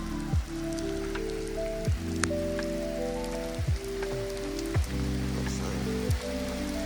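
Heavy rain drums steadily on a 2025 Toyota Camry SE AWD while it drives, a dense constant patter over low road rumble, with periodic wiper sweeps and no talk.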